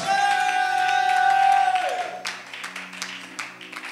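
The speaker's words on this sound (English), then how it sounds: "i thought somebody would clap and give god praise" A church congregation clapping and cheering in praise at a fasting and prayer service, a sustained tone fading out as scattered claps and whoops rise, moderately loud and close, with voices calling out among them.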